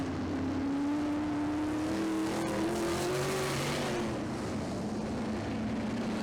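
Dirt track race cars roar around the circuit at night, a steady engine drone with one car's note rising and fading as it passes, loud and continuous.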